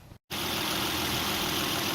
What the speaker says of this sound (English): Okay, so I've got the engine running now,